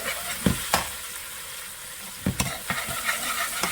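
Ingredients sauté in a pan for a coconut fish and shrimp stew, a continuous sizzle with a few sharp spoon clacks and scrapes as they are stirred, close and without speech.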